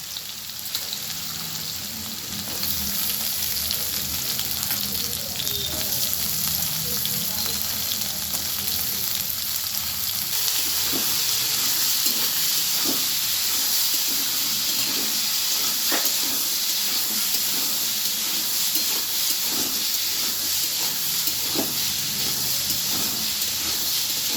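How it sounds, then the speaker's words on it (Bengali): Green peas are added to potatoes frying in oil in a pan, giving a loud, steady sizzle that swells after a few seconds and continues with faint stirring scrapes, close and without talk. "আলুগুলো একটু ভেজে নিলাম, নিয়ে এবার আমি মটরশুঁটিগুলো দিয়ে দিচ্ছি।"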